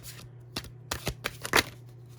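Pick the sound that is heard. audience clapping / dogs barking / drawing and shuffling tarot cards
drawing and shuffling tarot cards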